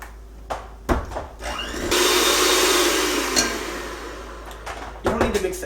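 An electric mixer whirs into cookie dough as egg and vanilla are worked in, running steadily for about three seconds between knocks and handling sounds.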